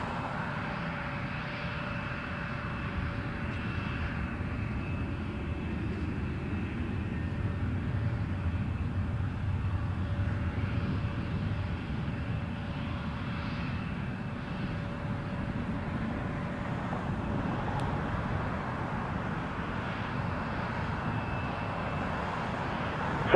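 Airliners at Toronto Pearson Airport produce a steady, distant jet-engine roar that holds level and unbroken throughout, with no talk over it.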